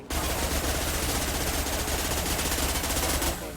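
Sustained rapid automatic gunfire from a hard-recoiling weapon in a video game, loud and continuous for several seconds without pause, then cutting off abruptly.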